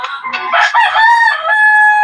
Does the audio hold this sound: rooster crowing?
yes